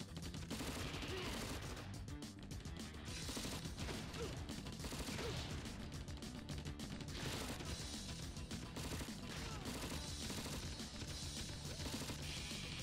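Tanks trade cannon fire in the strategy video game Crisis, with dense, continuous battle noise of shots and explosions at steady loudness throughout.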